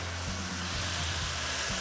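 Tomatoes hit a hot pot of taco soup with a steady, close sizzle and frying hiss that runs unbroken for about two seconds, with low stirring rumbles underneath and no talking.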